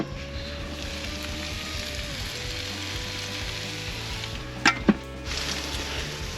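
Tomato, bacon, mushroom and potato fry in a pan with a steady, even sizzle throughout, and two brief metallic clinks of a utensil near the end.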